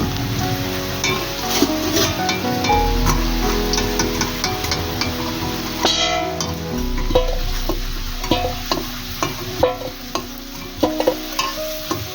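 Potato pieces fry in oil with salt and turmeric, giving a continuous close sizzle. Scattered clinks and scrapes of a utensil against the pan sound throughout, with no speech.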